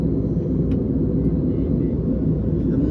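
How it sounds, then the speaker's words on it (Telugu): Inside an airliner flying from Chennai to Vizag through fog and cloud, a deep, steady cabin rumble drones loud and unbroken for the whole stretch. "ఫ్లైట్ కూడా చాలా స్లోగా వెళ్తుంది"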